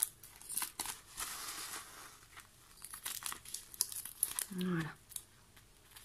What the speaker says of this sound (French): Donc attention au ruban. Moi généralement je fais une première coupe.